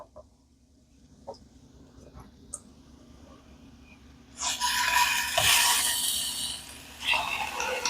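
Shrimp dropped into a hot pan for shrimp scampi, bursting into loud, steady sizzling after a quiet start with a few faint kitchen clinks, the hiss swelling again near the end.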